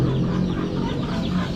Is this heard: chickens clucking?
yes